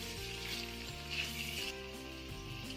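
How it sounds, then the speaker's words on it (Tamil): Mixed vegetables sauté with chilli powder and black pepper for fried rice, sizzling steadily in the pan with a constant hiss that runs beneath background music. "சில்லி பவுடரை அப்புறமா பிளாக் பெப்பரை வச்சுக்கூட சேர் சேர்த்துட்டு இது ஒரு 2 நிமிஷம் வதக்கி விட்டுக்கலாம்"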